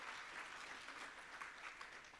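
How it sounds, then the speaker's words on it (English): Audience applause for a newly appointed National Under-21 Women's Hockey Team Manager at a live-streamed Free State ceremony, a steady, dense clapping sustained for about two seconds with no voices over it. "Can we give a big round of applause for her?"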